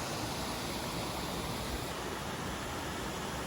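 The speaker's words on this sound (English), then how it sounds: "Oh, that's a pretty cool little waterfall there." Small waterfall on a creek in southwest Georgia, a steady, dense rush of falling water heard close and continuous with no voices over it.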